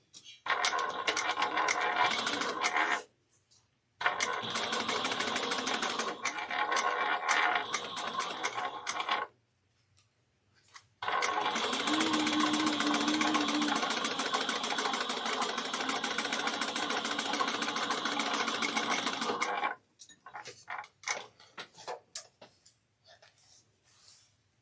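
A sewing machine stitches a bag in several long, steady runs of rapid mechanical whirring, each broken by brief pauses, with a few short stop-start bursts near the end; close and fairly quiet.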